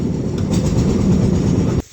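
A train passes close by on a rural line near a river, its steady loud rumble and wagon noise running throughout before cutting off abruptly near the end.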